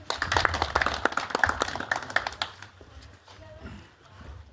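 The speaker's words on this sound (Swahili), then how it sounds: "Tupige makofi." A crowd at a political party gathering claps for a couple of seconds, a burst of scattered hand claps that fades out, with voices murmuring as it dies down.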